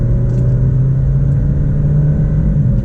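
A 2019 Alfa Romeo Stelvio Ti accelerates in dynamic mode, its engine a loud, steady low rumble with a sustained droning tone heard from inside the cabin.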